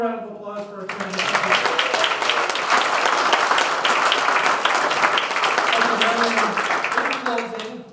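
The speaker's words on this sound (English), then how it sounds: "We get one more round of applause for our candidate." Audience applause at an Arizona House of Representatives District 25 candidate debate swells into dense, steady clapping lasting several seconds, with brief talk at the start and as it fades.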